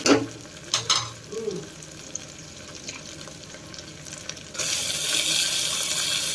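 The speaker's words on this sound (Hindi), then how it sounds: "यहाँ पे मैंने अदरक लहसुन ऐड कर दिया है और इसको चलाऊंगी" A few spoon scrapes and clinks over ginger and garlic softly sizzling in a pan, then a louder, steady hiss of frying takes over for the last couple of seconds.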